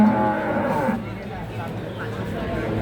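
Jumbo cattle at a cattle market in Tuban give a low, drawn-out moo, close and fairly loud, followed by market murmur and nearby talking.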